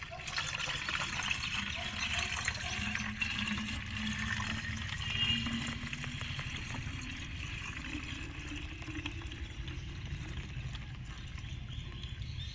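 Liquid pours and gurgles continuously into a hand sprayer, a steady watery rush at moderate volume with no talking.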